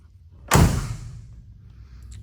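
A door on a restored 1969 Chevrolet Camaro 383 stroker swings shut with a single solid, close thud, followed by a fading low ring and quiet.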